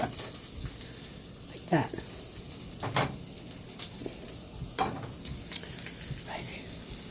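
Okra coated in cornmeal and Italian breadcrumbs frying in vegetable oil, a constant bubbling sizzle with a few louder crackles and clatters, heard under a brief spoken phrase.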